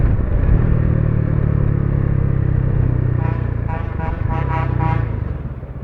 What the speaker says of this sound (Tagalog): Lakas mo naman ng busina.